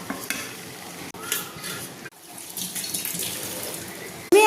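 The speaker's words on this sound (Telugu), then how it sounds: "తర్వాత నూడిల్స్ వేసి కొంచెం తర్వాతకి మంచిగా కలపాలి." Cooked vegetable noodles are stirred and tossed in a pan. A close, continuous scraping and sloshing runs without a break, with a couple of sharp clicks and a brief drop partway through. No one speaks.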